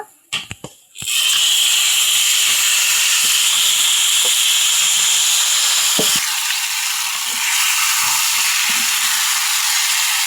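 A few sharp clatters, then a sudden loud, sustained sizzle as taro pieces hit hot oil with fried onions and keep hissing steadily.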